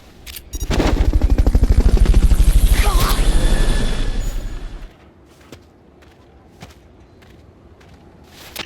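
The Fulton recovery helicopter in Metal Gear Solid: Peace Walker gives a loud, droning roar with a whining, pulsing tone that swells, holds for about four seconds, then cuts off. Scattered soft clicks and light footsteps follow.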